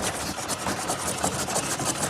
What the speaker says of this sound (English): the team are keen to see if the Ivel will power an old Edwardian kibbler